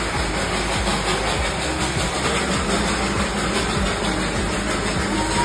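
Darjeeling steam toy train running on its hill track, a continuous loud rumble of the engine with rolling wheel and carriage noise and faint rhythmic clatter, with no voices.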